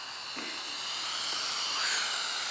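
A small drone's motors whine at a high, steady pitch and swell slightly louder as the throttle rises, a continuous buzzing drone sound outdoors in a light breeze.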